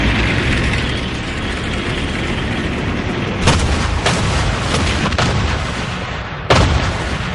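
WWII artillery barrage at the start of Montgomery's offensive: a continuous loud rumble of massed guns firing, with several sharper, closer blasts standing out above the roar.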